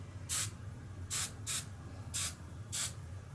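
Aerosol spray paint can puts a second coat on a Brummbar model. Five short hissing bursts come from close by, evenly spaced, and quiet room hum sits underneath.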